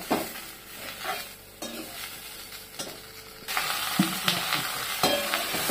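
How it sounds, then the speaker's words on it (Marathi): Onion frying in oil with a crackling sizzle and occasional stirring scrapes, the frying growing louder and denser partway through, no speech. "तर इकडे तेलामध्ये कांदा भाजते मस्तपैकी."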